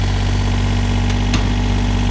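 A Tata Hitachi Zaxis 38U mini excavator idles at a pipeline pit dig, its engine a loud, steady, close drone with a low hum and a couple of faint clicks, with no talk.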